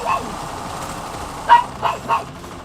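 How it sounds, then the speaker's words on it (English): A pet dog gives three short, moderately loud barks at home, spaced about half a second apart, over a low background hum with no talking. "Now there's my dog on cue"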